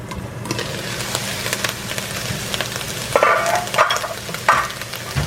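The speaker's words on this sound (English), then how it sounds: "my stove is on high because I want that meat cooking" Meat sizzles and crackles in a pan on a stove set to high, starting to burn, with a utensil stirring and scraping a few times; close and steady, no voices.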